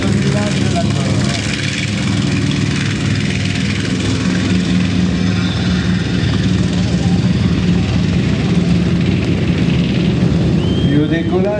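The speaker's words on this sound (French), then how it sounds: "Au décollage, un B-25." A B-25 bomber takes off at the La Ferté-Alais air show, its propeller engines producing a loud, sustained roar with shifting tones, while an announcer talks throughout.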